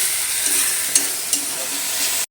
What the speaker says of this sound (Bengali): ভালো করে মশলাটা এখন কষিয়ে নিলাম।